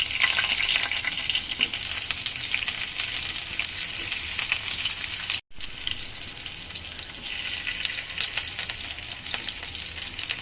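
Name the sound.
frying keema-filled mini chamucha snacks in oil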